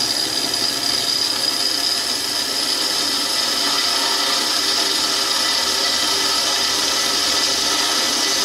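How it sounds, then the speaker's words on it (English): Continuous high-pitched whine of a drill press boring steadily into material for a fuel cell install on a Mazda RX-7 FD3S, loud and unbroken throughout with no voices. "I got it all set up here on the drill press. I'm just gonna get her going."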